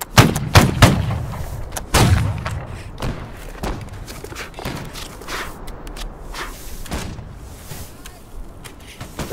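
Repeated heavy booming shots from in-game artillery during a hilltop firefight, loud thumps at the start then scattered sharper cracks and impacts, with some distant rumble between.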